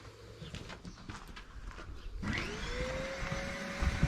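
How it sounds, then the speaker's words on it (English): Quiet background noise gives way to a Henry Hoover vacuum cleaner as its motor starts and rises into a steady close roar while sucking the air out of a bicycle inner tube, with rising whine and some knocks. "just put the Henry Hoover on it and then it just sucks all the air out of the tubes"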